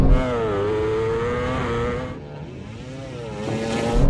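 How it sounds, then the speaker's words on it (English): A MotoGP bike and a KTM road bike launch in a drag race, engines screaming at high revs with a rising pitch, a brief dip as gears change, then climbing again, loud and close. "now let's do this race, finally. Beat both the bikes off the line."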